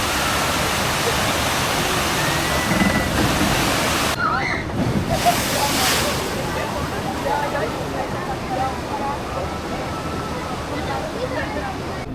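Water rushes and splashes steadily at a castle-themed log flume ride at Tripsdrill theme park, a loud continuous roar, with someone talking over it and crowd chatter behind.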